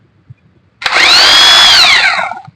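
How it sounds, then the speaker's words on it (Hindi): A 1500W heavy-duty 26mm hammer drill runs in hammer mode with no bit load, starting abruptly into a loud, steady high whine with a slight pitch sag before stopping after about two seconds. "देखिए ये हैमर मोड में है, इसमें खाली मशीन घूमता नहीं, खाली चलता है।"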